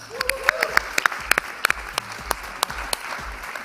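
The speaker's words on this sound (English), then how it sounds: "Let's clap for them." A Sioux Falls audience applauds Greater Sioux Falls Chamber of Commerce representatives with scattered, distinct hand claps, a modest number of individual sharp slaps over a quiet room rather than a roaring ovation.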